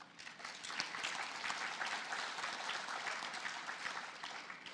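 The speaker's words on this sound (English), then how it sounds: "Please give them a round of applause." Sustained applause from a crowd at an FFA banquet, steady clapping filling the whole stretch at an even level.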